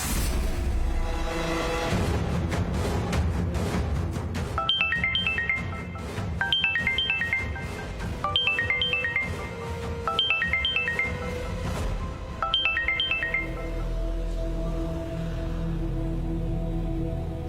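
A phone plays a repeating electronic ringtone while an outgoing call connects: five evenly spaced bursts of bright, chiming notes, loud and close, over a continuous dramatic music background.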